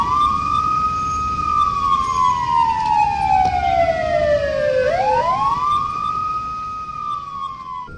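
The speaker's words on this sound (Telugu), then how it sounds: "కంటిన్యూగా సైరన్ కొడుతున్నా గానీ ఎవరు పట్టించుకోకుండా తమ పని తాము చూసుకుంటున్నారు" An ambulance siren in traffic in the USA wails with a long, slow falling pitch sweep that then rises again, loud and near, over a low rumble of road traffic.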